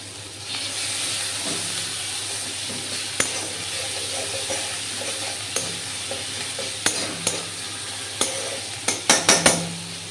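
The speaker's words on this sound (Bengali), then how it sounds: "বেশ সুন্দর ভাজা ভাজা হচ্ছে এবার এর মধ্যে আমি দিয়ে দেব পেঁয়াজের বাটা" Onion paste sizzles in a pan of frying garlic while a spoon stirs it. A steady close hiss runs under scraping clicks that grow quicker and louder toward the end.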